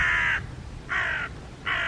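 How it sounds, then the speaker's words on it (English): A gull calls three times at even intervals from a short distance, harsh and nasal, over a low rumbling background. "I do apologise about the seagull."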